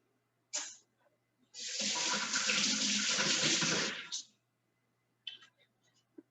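Water runs from a kitchen tap for about two and a half seconds as something is rinsed during fried eggplant prep, a steady close rush with brief clicks and splashes before and after.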